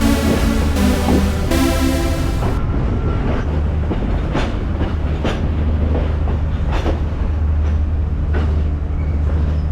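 The Yal Devi passenger train to Jaffna runs past, loud and near, first with a drawn-out horn blast and then a rolling rumble with rhythmic clickety-clack of the wagons over the rails.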